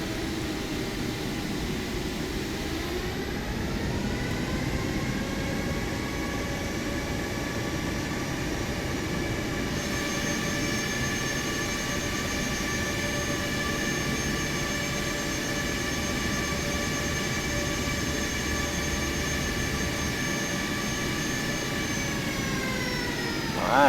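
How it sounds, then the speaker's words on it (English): Aeromexico airliner jet engines roaring in reverse thrust after landing, a loud sustained whine with steady tonal harmonics that rises, holds for a long stretch, then spools down near the end, heard from inside the cabin. "we're going to do a reverse thrust right here"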